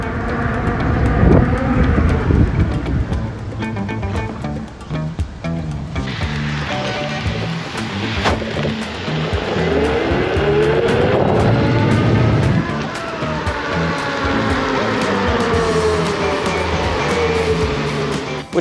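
A Veteran Patton electric unicycle speeding up and braking hard, with a rising and falling motor whine over strong wind rush, loud and steady throughout, with no one talking.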